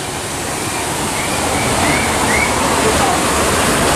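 Big waterfall at an Efteling theme park ride, a steady broadband rush of falling water that stays loud and continuous throughout, with faint voices in the background.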